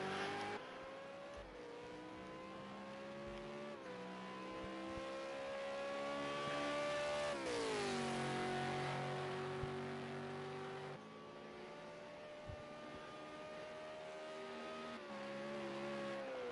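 V8 Supercar race cars in a racing video game at Watkins Glen, engines droning and shifting pitch continuously as they rev and accelerate, loud and steady with no talk.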